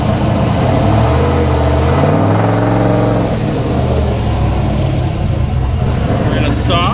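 A car engine runs loud and close in gear while the wheels spin, with a rising and falling pitch that sounds like revving. Someone talks over the engine during a check of a TH350 transmission.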